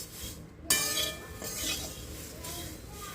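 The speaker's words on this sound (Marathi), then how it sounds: "आता हे सगळं साहित्य आपण भाजून घेऊ सगळ्यात आधी मी पोहे घेतलेत भाजायला" Flattened rice (poha) dry-roasted in a pan for chakli, a sudden metallic clank of a utensil followed by rustling stirring and scraping against the pan, close and fairly steady.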